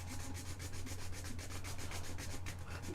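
An Amiga B2000 computer case is worked with a belt sander: a steady, rapid rasping in quick, even pulses over a low motor hum, close and continuous, with no voices.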